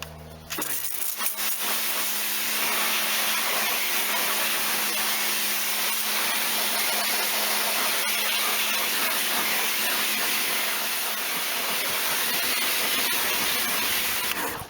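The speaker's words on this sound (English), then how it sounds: "just give that a little bit of a rinse then with the old power washer, the old Karcher" A Karcher power washer sprays a car wheel in a loud, steady high-pressure hiss that starts abruptly and runs continuously close by, with no talking over it.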